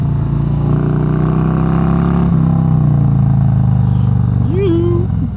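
A 2018 Harley-Davidson Road Glide Special fitted with Tab Performance mufflers cruises along, its deep, steady exhaust rumble loud and close throughout, with a slight shift in pitch midway and a brief voice near the end.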